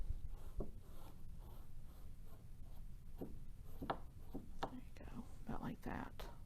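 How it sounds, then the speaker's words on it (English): Scissors cut through a T-shirt being made into a tote bag, giving soft, close snipping and fabric rubbing at an uneven pace under a low background hum. "I'm going to go ahead and cut down to this bridge here."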